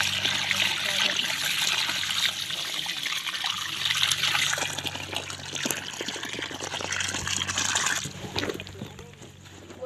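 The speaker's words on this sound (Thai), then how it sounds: "น้ำเต็มท่อดีครับน้ำเต็มปากคอเลย" Water gushing from the pipe of a solar-powered borehole pump, a steady broad rushing splash that holds nearly level throughout, with a voice speaking briefly over it.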